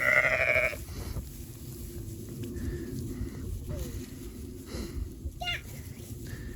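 Ewes and lambs on a farm during lambing season, with a loud bleat at the start and a few fainter calls scattered over a steady outdoor background, while someone talks throughout.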